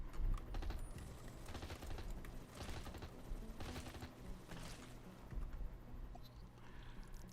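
Helicopter guns firing in the video game Megacopter, repeated rapid bursts of rattling gunfire in clusters over a steady low background, moderately loud with no talk.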